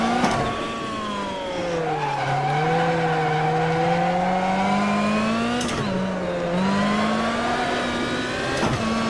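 A rally car in the racing sim AMS1 revs steadily and loud, its engine pitch sweeping up and down through gear changes with brief tire squeals, close and continuous with no talk.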